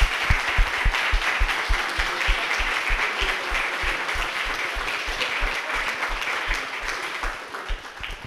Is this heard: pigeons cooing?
no